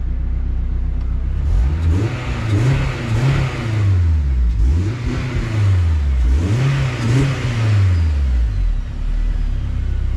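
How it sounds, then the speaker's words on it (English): A turbocharged AWD car engine with an aftermarket exhaust revs repeatedly, climbing and falling in roughly four rising sweeps with a whooshing turbo and rumbling exhaust, loud and close. "There, I'm gonna rev it right here, and you tell me where you can hear it the most."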